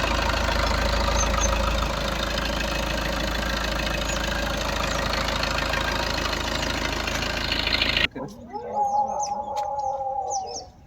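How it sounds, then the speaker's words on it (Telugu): The diesel engine of a 2015 Maruti Suzuki Ertiga VDI idles with a low, even rumble for several seconds, then cuts out, leaving birds chirping in the background. "ఫ్రెండ్స్ ఇంజన్ సౌండ్ కూడా చూసుకోవచ్చు"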